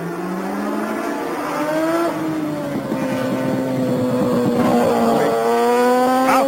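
A racing motorcycle on a road circuit under Trevor Nation screams past up through Hall Bends, its loud high engine note rising and shifting through gears, then revving hard again near the end.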